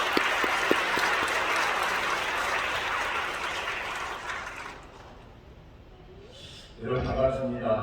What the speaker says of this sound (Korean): 특별히 나오시면 박수로 환영합니다.